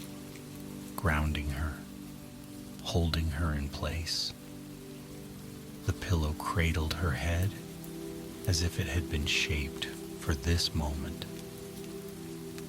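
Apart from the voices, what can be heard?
rain falling on a cabin roof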